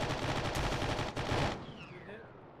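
Rapid machine-gun fire in a military shooter game, a loud, close, steady rattle of shots for about a second and a half that then stops, leaving a fading tail and faint voices.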